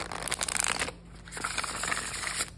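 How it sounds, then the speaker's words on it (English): A tarot deck being shuffled by hand close up, with quick riffling card flutters in two bursts separated by a brief pause, quiet and without talk. "I have to give it a shuffle because I can't not"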